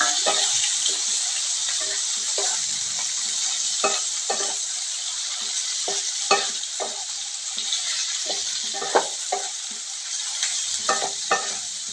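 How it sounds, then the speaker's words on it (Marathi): Small paneer pieces deep-frying in oil in a pan give a steady, close hiss with scattered light clicks and pops throughout, with no voices. "पनीर आपला चांगला डीप फ्राय झालेला आहे"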